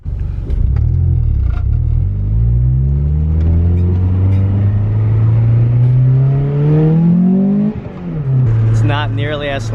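Honda Prelude with a Tri Y header and finished exhaust, a deep steady drone climbing in pitch through one long pull before easing off, close and fairly loud, with a voice briefly over it near the end.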